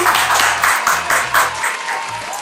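A small group claps for a pair of twin sisters in a casual hangout, brisk rhythmic clapping close by, fairly loud, with a low hum underneath that tails off at the end.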